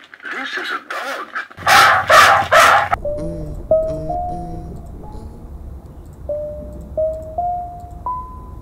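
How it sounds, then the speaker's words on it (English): An animal sound toy plays a recorded dog barking, several short electronic barks and yips followed by squeaky whimpering tones, loud and close, with a voice speaking briefly at the start. "This is a dog."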